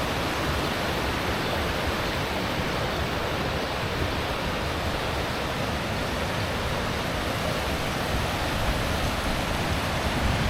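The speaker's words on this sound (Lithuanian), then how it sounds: "O, čia išvis geras kriuklys." A small waterfall beside a little footbridge sends up a steady, loud, full-bodied rush of falling water that never lets up, with no voices over it.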